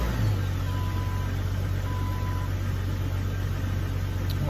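A Jeep engine, just fitted with upgraded 4 hole fuel injectors, runs close and loud with a steady low rumble, no distinct cranking heard, holding an even idle throughout.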